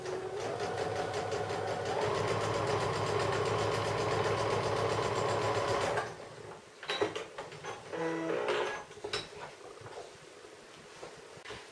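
A domestic sewing machine runs steadily and loud for about six seconds while stitching a quilt block seam, then stops, leaving a few short bursts and faint handling noises.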